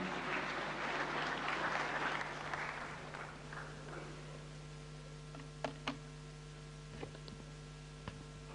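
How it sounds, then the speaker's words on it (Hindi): Audience applause at a government conclave event, a faint broad wash of clapping that fades out over the first few seconds, leaving low hum and a few soft ticks. "जोरदार तालियां।"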